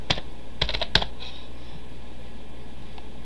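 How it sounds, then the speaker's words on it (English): Typing on a computer keyboard during Windows 10 account setup: a handful of quick, close key clicks in a short burst, then a single faint tap over a steady fan hum. "Type what you want to name your account."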